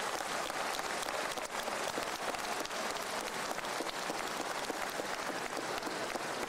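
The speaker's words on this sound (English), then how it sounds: "for us to give you a nice round of applause" A large audience at a commencement ceremony gives steady, sustained applause for the standing faculty, a dense rain-like wash of clapping at moderate distance with no talking.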